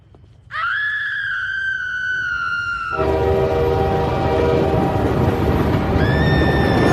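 A loud train horn blares in sustained tones as a train roars past close by, rumbling heavily, with the horn sounding again near the end.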